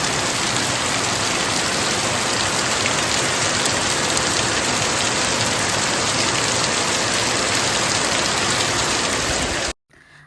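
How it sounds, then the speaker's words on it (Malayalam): Heavy rain falling outside, a dense, loud, continuous roar of drops that runs steadily and then cuts off abruptly near the end. "പുറത്ത് നല്ല മഴയുണ്ട്."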